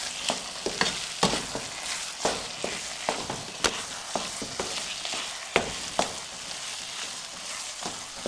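A spoon stirs soaked semolina (suji) for sabooni in a pot, making a series of irregular scraping knocks and soft wet shuffling, close and alone.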